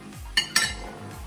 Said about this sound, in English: Mix the green beans